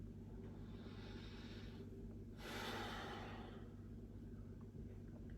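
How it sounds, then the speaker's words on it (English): A person breathes in slowly and audibly during a guided speaking exercise, one soft drawn-out inhale-exhale rising over a steady low hum of room noise, with a faint earlier breath before it. "Breathe."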